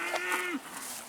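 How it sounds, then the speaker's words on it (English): A cow moos in a barn of cattle, one drawn-out low call that falls off at the end, close and clear, over a soft rustling background. "You can also hear the cows chewing and mooing in the background, like here."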